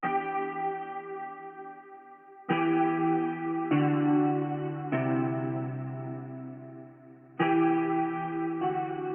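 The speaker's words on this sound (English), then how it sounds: "the reverse guitar, is just the guitar I played for you earlier" A clean, forward-played guitar part for an Afrobeat beat, sustained chords struck every one to two seconds and ringing out steadily, close and clear with no voices.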